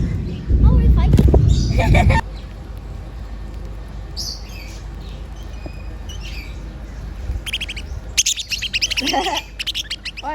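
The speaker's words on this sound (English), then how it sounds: "This is my bird. Oh, yo, they are fighting." Pet birds squabbling at a nature park, with sharp bursts of chirps and squawks coming close by in several clusters, under a steady background hum and a loud rustle near the start.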